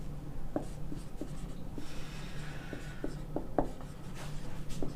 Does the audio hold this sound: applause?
no